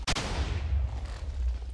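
A TNT cannon blows up in Minecraft: one sharp blast right at the start, then a deep, heavy rumble that rolls on loudly for nearly two seconds, with no talking.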